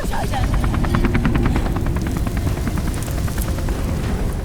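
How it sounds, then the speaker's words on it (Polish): A helicopter in the video game Beyond: Two Souls throbs loudly and close with a fast, steady rotor chop, mixed with heavy rumbling action noise throughout. "Śmigłowiec! O! Trzeba się go pozbyć!"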